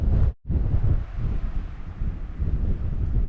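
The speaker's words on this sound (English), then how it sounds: "Very windy though." Strong coastal wind buffets the microphone on an exposed headland at low tide, a loud, continuous roar with gusts and a brief lull, with no voices heard.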